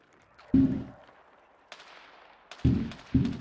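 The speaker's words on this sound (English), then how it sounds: "what you're hearing is fireworks" Fireworks going off outdoors on July 4th: three sharp nearby bangs with crackling tails, plus a softer distant pop, spaced irregularly against quiet.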